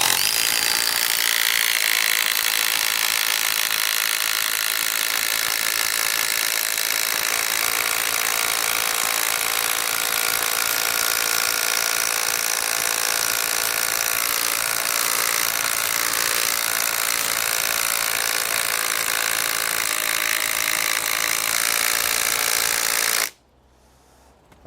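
A 12-volt impact driver sinks a thick 10-inch Simpson Strong-Tie stainless steel screw into wood, a loud, continuous rattling hammer that runs steadily for over twenty seconds before cutting off abruptly.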